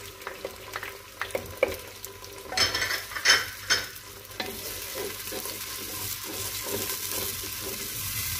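Chopped tomatoes and green chilies hitting a hot pan for a mixed vegetable sabzi, with scraping stirs and clattering utensil knocks at first, then a steady, close sizzle that fills the rest with no talking.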